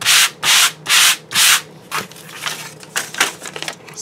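Waxed paper sanded by hand to distress it, four loud, even back-and-forth rasping strokes up close, followed by lighter, quicker scratchy rubs.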